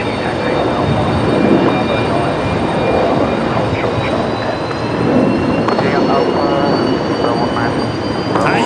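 A Fokker jet airliner starts its engines while being pushed back at an airport, a loud continuous roar with a thin rising turbine whine, steady throughout.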